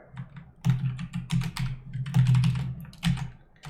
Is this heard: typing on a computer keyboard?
yes